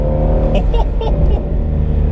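A 2016 Shelby GT350 Mustang's engine drones and revs steadily up close from inside the moving car, loud and continuous under a voice.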